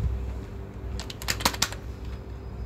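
Quick burst of computer keyboard typing, a short run of close, light key clicks over a low background hum, without talk.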